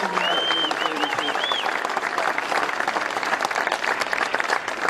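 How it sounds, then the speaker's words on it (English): Sustained crowd applause for Missouri Governor Greitens at Caterpillar Inc. headquarters, dense steady clapping with a whistle cutting through near the start. "Would you give another round of applause for a great, new, dynamic governor here in Missouri"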